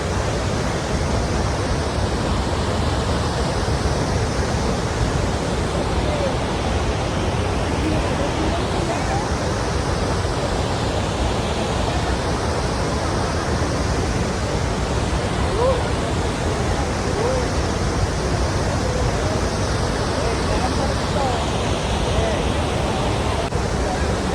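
Steady, loud broadband roar of Athirapalli waterfall, continuous and unbroken, with faint crowd babble mixed in beneath the rushing water.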